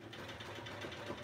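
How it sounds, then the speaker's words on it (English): Home sewing machine fitted with a darning or free motion quilting foot, running in a steady, soft mechanical whir with rapid needle pulses, quiet and close, no talking. "we are on just a normal like home sewing machine"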